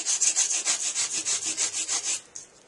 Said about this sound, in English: And then use your sandpaper